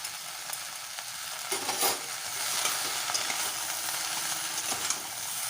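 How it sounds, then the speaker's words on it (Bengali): Vegetables with a little ginger stirred and sautéed in oil in a pan for a homestyle shukto, steady close sizzling with scraping stirs and a few louder clatters, no talking. "ভালো করে আদাটা দিয়ে সবজিগুলো কষিয়ে নিতে হবে।"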